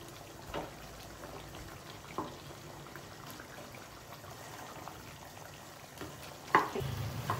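Chicken frying in a pan as its cooking water boils off gives a faint, steady sizzle with a few small pops and stirring clicks, heard alone without talk.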